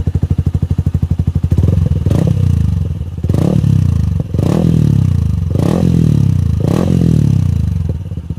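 Yamaha Sniper 155 with a Yoshimura R77 full-system exhaust and no silencer, idling with a loud rapid close burble and then revving sharply about five times in a row, each blip rising and falling back.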